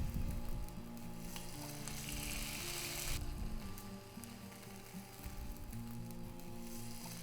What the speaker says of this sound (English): we are going to add our steak to the skillet